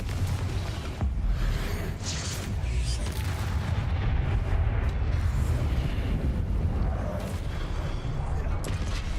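Harry Potter video game spell combat with a Confringo blast, a loud, dense rumbling explosion that sustains throughout, roaring low and broad, with a voice speaking over it.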